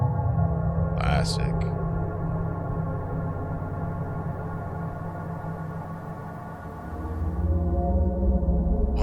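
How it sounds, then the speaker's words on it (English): A strange swirling drone in a video game, a loud, dense, continuous wash that slowly shifts and wavers, with a short voice heard briefly near the start. "Sounds like this strange swirling noise."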